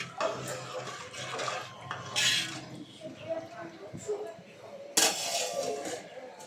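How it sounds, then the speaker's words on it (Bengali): Food stirred in a cooking pot in a home kitchen, with a spoon scraping and clinking against the metal in uneven strokes, fairly soft, while someone talks over it. "এখন এটা আমি সুন্দর মতো নেড়ে ঢেকে দেব।"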